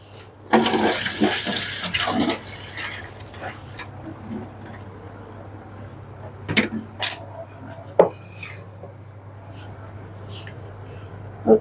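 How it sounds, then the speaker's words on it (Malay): Vegetables are washed under a running tap: a loud rush of water for about two seconds, then scattered knocks and clatters of produce and dishes in a sink, close by. "Saya cuci dulu"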